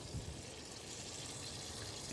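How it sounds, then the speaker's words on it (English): Water being poured into a pot of fire-roasted Cajun gumbo with sausage and chorizo, a soft steady splashing and trickling hiss that runs evenly throughout at a quiet level, with no voices. "A little bit of water in there is what you're hearing."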